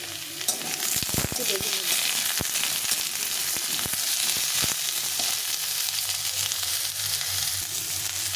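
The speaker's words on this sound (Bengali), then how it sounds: "আলু আর বেগুনটা লাল লাল করে ভাজা হয়ে গেছে" Potato and brinjal pieces frying in a pan, a loud continuous close sizzle with occasional sharp spatula knocks and stirring scrapes early on.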